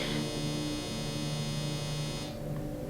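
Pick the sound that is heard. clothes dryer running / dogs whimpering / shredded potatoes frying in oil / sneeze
clothes dryer running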